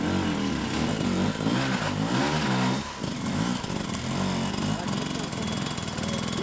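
Hard enduro race motorcycle engine revving hard and continuously, a loud buzzing, wavering roar with repeated throttle surges, heard close up with a commentator talking over it.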